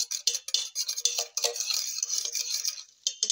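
A spoon stirs salt and black pepper powder into a vegetable pizza topping, giving a steady run of close scraping and clinking against a bowl with short pauses, alone and without talk.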